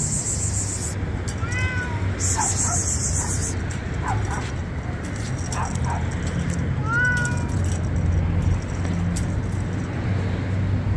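Cats meowing at a street pet market in Baghdad's Adhamiya district, several short rising meows at a moderate distance over steady crowd and traffic noise.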